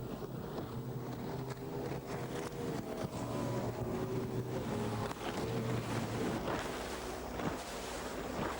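Off the coast of Jersey, a speedboat motors across choppy water, its engine drone steady under splashing waves and wind, fairly distant and without voices.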